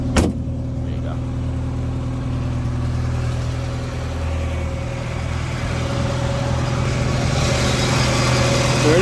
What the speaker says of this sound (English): There it is, 4-liter, straight 4. That's a Chevy motor.